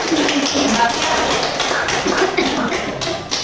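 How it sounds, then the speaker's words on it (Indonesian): A university classroom breaks into group clapping, a dense run of quick hand claps filling the room while voices carry through underneath. "Oke, tepuk tangan untuk kita semua dulu."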